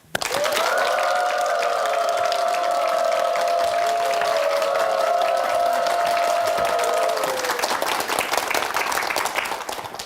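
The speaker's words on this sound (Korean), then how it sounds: "큰 박수로 초대하겠습니다" A room full of people applauds steadily and loudly for about ten seconds, with a tonal sound ringing through the clapping before it tapers off.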